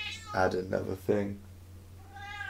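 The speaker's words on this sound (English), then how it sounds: "and that's my cat going crazy." A house cat meows insistently in a room, its cries overlapping a man's speech, with a thinner meow returning near the end after he pauses.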